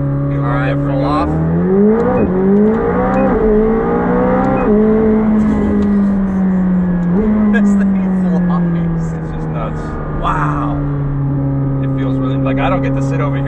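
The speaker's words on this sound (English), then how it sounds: "But man, for a off-the-shelf, anyone-can-buy car, This is so ridiculously fast." 2021 McLaren 765LT accelerating hard with traction control off, a loud engine roar rising through gears with shifts and steady high revs, heard from inside the car while people talk.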